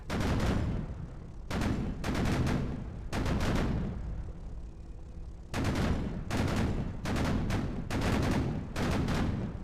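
A Type 76 SPAAG anti-aircraft gun in the Sproket video game fires in repeated loud, rapid bursts, each lasting a second or more, separated by short pauses.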